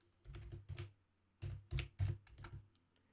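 Keys clatter on a computer keyboard in a few quick, soft clusters of taps with short gaps between them, close and fairly quiet.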